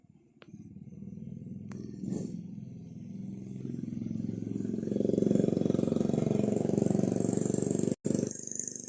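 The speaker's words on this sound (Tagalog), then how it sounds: "Ayun, isa lang yung motor." A single motorcycle draws near at dusk around a public cemetery, its engine drone swelling steadily and holding loud and close, with a brief sharp click near the end.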